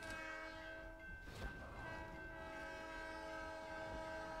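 A train horn sounds in the Custom Zombies map as the zombie train is set off, a steady sustained blast with a sharper burst near the start, over rumbling rail noise, with no talking.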